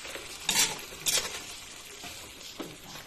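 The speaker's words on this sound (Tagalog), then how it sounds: "At halo-haloin lang natin siya para malagyan yung meat ng flavor." A spoon stirs beef short ribs in barbecue sauce in a pan, giving a few soft scraping, sticky swishes at irregular intervals over a quiet low background.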